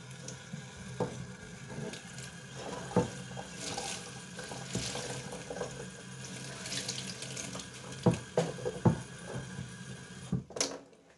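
Running tap water while hands, a container and its handle are rinsed clean after applying a protective coating to kiln shelves, with a steady splashing flow and occasional clunks and knocks throughout.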